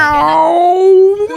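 A person's voice imitates a cat's meow, a single drawn-out tonal wail that slides downward and fades, close and loud with no other sound.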